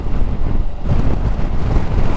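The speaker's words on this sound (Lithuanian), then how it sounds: "Čia tai vėjas." Strong gusting wind in the Norwegian mountains during a storm with rain, heard as a loud, continuous low roar and buffeting against the microphone, steady throughout without speech.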